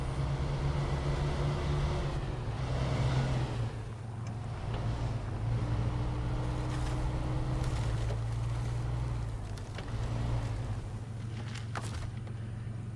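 A heavy SnowRunner truck crawls along in 4-wheel drive, its engine a steady, loud low drone with a rumbling rise and fall throughout and no voices.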